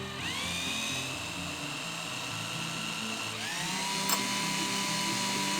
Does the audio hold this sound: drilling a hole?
yes